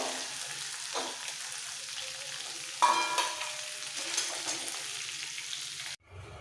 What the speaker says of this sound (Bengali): ভাজা হয়ে গেছে এরকম মোটামুটি হালকা ভেজে নিতে হবে